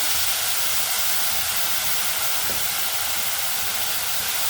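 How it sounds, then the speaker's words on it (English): Chopped tomato and tomato puree fry in a pan while rasam is being made. A steady, even sizzling hiss stays close and constant, with no talking. "And fry till the tomato becomes soft"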